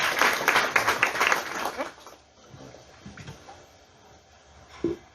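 Applause at a talk on preventing adolescent pregnancy, a burst of clapping for about two seconds that fades into quieter room noise with faint movement and a brief voice.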